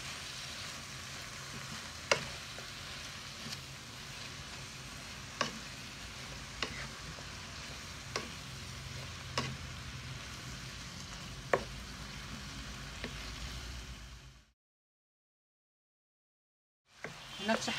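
Noodle seasoning with fresh ginger stir-fries in a pan with a steady, moderate sizzle, broken by occasional sharp clicks of a utensil against the pan. Near the end there is a short stretch of silence before the sizzle resumes.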